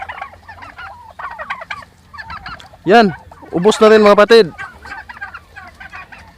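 Turkeys gobbling in a farm pen, with a loud close burst of gobbling calls in the middle while someone speaks before and after.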